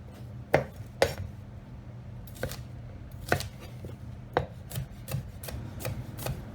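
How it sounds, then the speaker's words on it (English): A knife chopping vegetables on a cutting board for Hungarian beef goulash, with about a dozen sharp, irregular chops spaced across the clip, close and fairly loud, with no talking. "we want to chop this, once again, not too fine"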